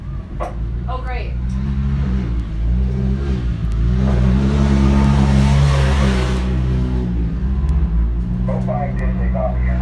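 A UTV race car at a high desert off-road race revs and accelerates away, its engine swelling to a loud rumbling peak midway before easing, while a commentator talks over it.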